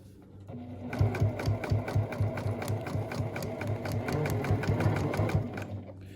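A sewing machine back-stitches the fabric of a face mask, giving a close, fast, even rattling stitch rhythm that starts after a brief pause and runs continuously to the end.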